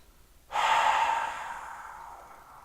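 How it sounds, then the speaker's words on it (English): A long, slow open-mouth exhale like fogging up a glass, starting abruptly as a loud airy rush close up, then fading gradually over about two seconds, alone without talk. "It's an open mouth, fogging up of the glass, long, slow exhale."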